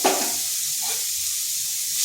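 Grated coconut is stirred lightly in a hot pan for a filling, giving a steady soft sizzle with a brief scraping stir at the start, close and alone.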